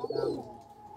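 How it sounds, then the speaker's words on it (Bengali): Pigeons cooing as they flutter down and feed, a soft throaty coo repeated a few times up close in the first half, then fading to quieter ambience. "এই যে কবুতরগুলা উপরে থেকে নামতেছে আস্তে আস্তে খাইতেছে"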